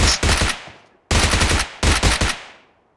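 Automatic gunfire in the PUBG Mobile shooter game: three close, loud bursts of rapid shots, each fading out in a short echo, with brief gaps between them and no voices.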